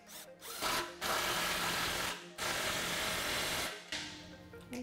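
A power tool whirs in several short bursts as it tightens the tailpipe clamp of a Flowmaster 2.5-inch stainless steel cat-back exhaust on a Fox Body Mustang. The bursts are loud, close and separated by brief pauses.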